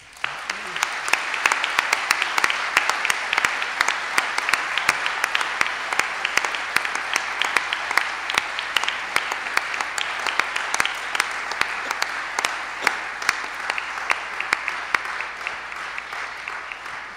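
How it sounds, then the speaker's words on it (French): A conference audience claps after a talk by Jean Vanier, producing sustained, even applause from a large room that carries on for well over fifteen seconds, fairly loud and without letting up. "On peut l'applaudir."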